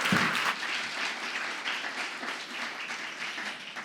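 An audience at an award ceremony breaks into applause, a dense, even wash of many hands clapping, fairly distant and steady for a few seconds.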